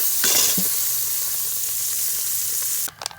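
Onion and garlic sauté in melted margarine in a hot pan, giving a loud, steady close-up sizzle with a few stirring scrapes, and a brief clatter just before the sound cuts off at the end.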